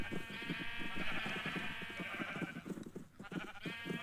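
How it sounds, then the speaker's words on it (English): Sheep in a pen bleat in a rapid, wavering rhythm, fairly close and continuous, with the pulsing calls briefly dipping near the end. "Before the sheep swarm me."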